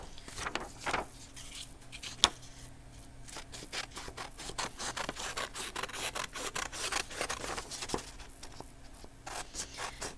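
Scissors snip through paper flaps in a run of short, crisp cuts and rustles, some louder than others, with quiet handling scrapes between them and no talking.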